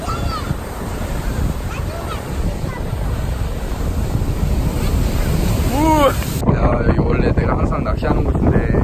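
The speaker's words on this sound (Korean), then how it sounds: "오늘 파도가 너무 많다." Ocean waves surge and wash steadily at a seaside fishing spot on Enoshima, Japan, with heavy wind buffeting the microphone throughout and brief voices faintly audible beneath the roar.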